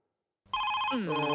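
An old-style telephone bell rings loudly and continuously after a moment of silence, with a shifting electronic tone underneath; no one speaks.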